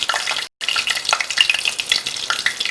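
Whole spices hit hot oil in a pan for veg biryani: 3 cinnamon sticks, 3 cloves and 3 cardamom pods. The result is a loud, close, continuous crackling sizzle with a brief break near the start and no talk.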